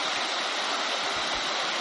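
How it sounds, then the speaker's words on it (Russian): A waterfall on a stream by a karst grotto near a village in Kirov Oblast, Russia, gives a steady, loud, close rushing roar with no break. "водопад."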